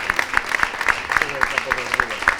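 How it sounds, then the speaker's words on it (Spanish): Audience clapping at a Valencia centenary event of the Spanish hockey federation, a steady round of applause with distinct claps, moderately near, voices mixed in. "Se ha ganado un aplauso, ¿no?"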